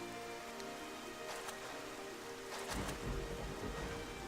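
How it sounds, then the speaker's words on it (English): Rain in the video game Xenoblade Chronicles: a steady hiss of falling rain with scattered drop patters, swelling into a heavier, fuller downpour with a low rumble partway through, no voices. "now that it's raining, it's going to rain for a while"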